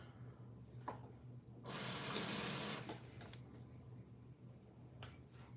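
Water from a tap running into a container while preparing a cutting to sprout in a kitchen, a steady hissing gush of about a second that stops, faint clicks and handling noises around it.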